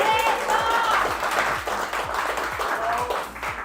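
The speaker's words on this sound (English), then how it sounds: "So if we can just give him a quick round of applause for that." Audience gives a quick round of applause for Tom at a BMX bike launch live stream, clapping mixed with crowd murmur and a repeating low mechanical sweep beneath, fading toward the end.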